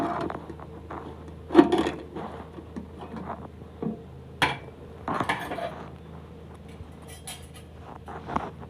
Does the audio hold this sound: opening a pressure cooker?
yes